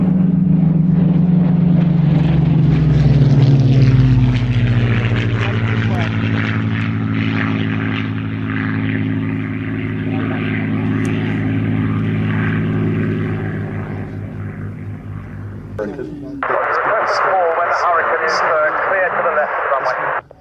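A restored Avro propeller aircraft in maritime configuration flies at Shuttleworth, its engine a steady, fairly close drone with shifting tone that changes abruptly near the end, with a voice talking over it.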